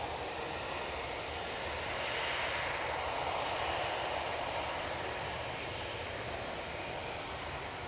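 A KLM Embraer E2 jet rolls out after touchdown at Manchester Airport, giving a faint, distant, steady engine rush that swells slightly midway, with no voices.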